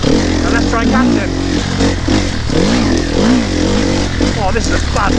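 An enduro motorcycle is ridden on a trail, its engine revving up and down with rising and falling whines, loud and close, while a rider talks over it.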